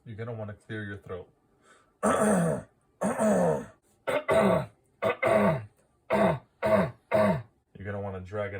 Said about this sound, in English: You're going to want to clear your throat